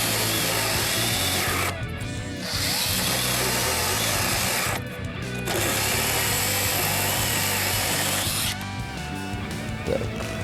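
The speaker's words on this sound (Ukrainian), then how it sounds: "Трошечки гудів, але пилка справляється з цим." A Worcraft CHS-S20LiB cordless mini chainsaw cuts through an old pine beam, a loud, close, steady buzzing drone interrupted by two or three short dips as the chain bogs slightly.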